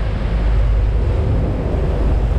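Rough sea surf and steady wind roar across the open Gulf of Mexico near jetties, heard from aboard a deep-sea fishing boat as a loud, continuous wash with buffeting wind on the microphone and no voices.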